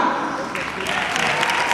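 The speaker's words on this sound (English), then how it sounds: "Please, a big applause." Dense applause from an audience at a company event, a steady wash of many hands clapping through the short stretch with voices mixed in underneath.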